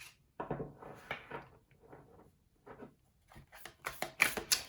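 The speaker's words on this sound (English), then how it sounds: "So I'm shuffling your cards." Tarot cards shuffled by hand in soft, uneven bursts of papery rustling and light taps, quiet and close, growing crisper toward the end.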